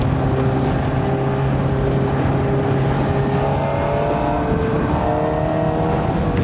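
A QJMotor SRK 421RR motorcycle engine drones steadily in sixth gear, its smooth tone holding and then rising slightly as the throttle opens, with a continuous, fairly close roar and no voices.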